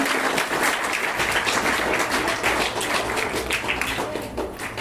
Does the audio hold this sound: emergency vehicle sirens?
no